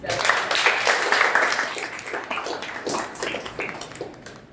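Audience members at a Toastmasters club meeting clap together, a moderately loud patter that starts strong and gradually thins and fades over a few seconds.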